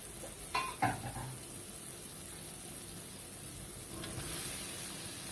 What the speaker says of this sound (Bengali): এর মধ্যে আমি এবার দিয়ে দিচ্ছি সেদ্ধ করা সয়াবিনটা